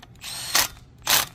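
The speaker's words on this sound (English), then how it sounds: "I'm gonna hit them with the 11 millimeter socket." Ratchet wrench driving an 11 millimeter socket on the bolts of a 5HP Briggs & Stratton small engine: two close, loud bursts of rapid clicking separated by a short pause, with a faint mechanical hum between them.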